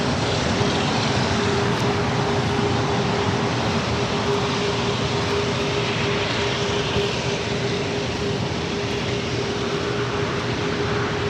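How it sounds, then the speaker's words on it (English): A China Airlines cargo Boeing 777 touches down at LAX, its engines a broad, steady roar heard from a distance. A faint tonal hum runs underneath, and a voice speaks one brief word. "also just had a China Airlines cargo 777 just touching down"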